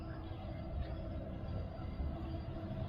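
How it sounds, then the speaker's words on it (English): A faint, continuous low rumble of a distant train running up high near a dam campsite, steady with slight wind-like wash and no clear voices. "That's a train."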